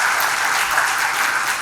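Audience applause at the Giving Wings to Dreams Award 2023 ceremony for Indian women in aviation, a brief burst of dense, even clapping from a hall crowd with no speech over it.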